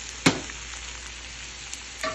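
Tofu scramble being stirred in a hot pan as it gets lightly coated. A sharp scrape of the utensil comes first, then a quiet sizzle and a second scrape near the end, close and fairly soft, with no talking.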